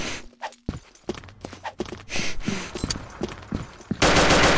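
Sharp pistol shots crack in quick irregular bursts in a video game, some close and loud, over scuffling movement, ending in a burst of loud noise.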